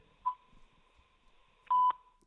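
Two telephone dialing tones sound while a call is being placed back: one short tone, then after a pause a longer, louder tone, each clean against a quiet background.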